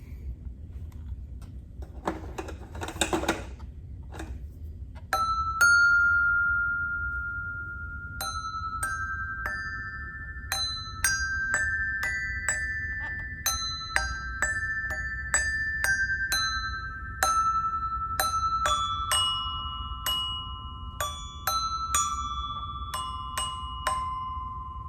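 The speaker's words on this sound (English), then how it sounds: "Let's consider these bells." Bells ring out in a slow series of clear, struck tones at different pitches, each note chiming and lingering over a quiet low hum.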